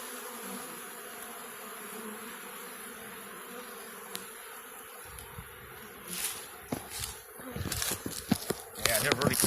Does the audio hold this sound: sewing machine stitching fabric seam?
no